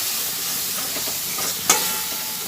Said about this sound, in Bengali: ভালোভাবে নাড়াচাড়া করে করে এটাকে ভেজে নিচ্ছি